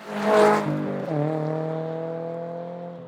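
A Toyota GR86 sports car engine revs up, drops briefly, then settles into a steady, moderately loud drone as the car pulls away, heard alone without talk.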